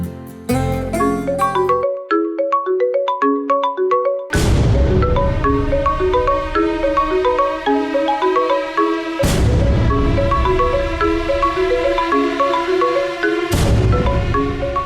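A phone rings with a looping melodic ringtone, loud and continuous with bright repeating chimes and periodic accents, playing alone without any talking.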